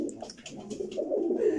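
Pigeons cooing in a breeder's loft in Chelm, Lublin province, a soft, low, throaty warble rising and falling close by, with faint chirps and rustle behind it.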